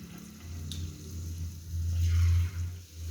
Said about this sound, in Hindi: चिकन को हल्की आग पे अच्छी तरह फ्राई करना है और इसको गोल्डन करके हल्का सा निकालना है।